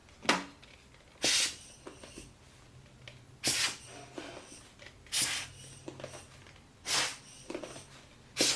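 Short puffs of air are blown onto the optic of a Nikon F 50mm f/1.8 D AF-D lens during cleaning for fungus. About six soft hissing bursts come at irregular intervals, close and fairly quiet.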